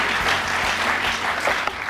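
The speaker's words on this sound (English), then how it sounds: "Give yourselves a round of applause." Steady applause from a company audience fills the whole stretch, dense and continuous at close range with no talk over it.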